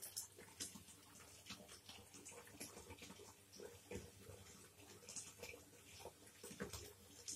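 Tap water runs steadily into a pool set up for a Cape monitor lizard, a faint, continuous splashing gush with no voices over it.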